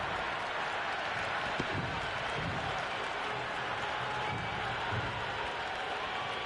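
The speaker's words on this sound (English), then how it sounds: "It's evident and ever so audible that the crowd is at near bursting point at today's play" A virtual cricket stadium crowd from Cricket 26 during an India versus South Africa ODI roars in a steady, dense wash of cheering and applause, with commentary faintly woven underneath.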